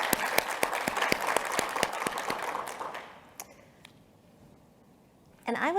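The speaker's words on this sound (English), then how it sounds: "Let's give her a round of applause" Audience applause for a speaker at an entrepreneurship summit, with a few sharp nearby claps over a crowd clapping that fades out after about three seconds, leaving quiet room tone before a burst of talk at the end.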